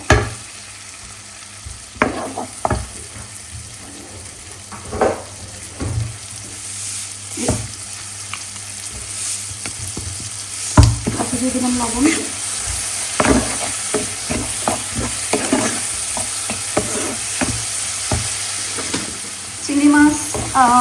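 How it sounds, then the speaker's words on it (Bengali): Prawns frying in a pan with onion and green chilli, a loud continuous sizzle broken by repeated scraping stirs of a spatula, while someone talks briefly over the cooking. "পেঁয়াজ কাঁচামরিচ চিংড়ি মাছটা একটু ভেজে নিব"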